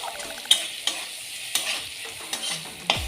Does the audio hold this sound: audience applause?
no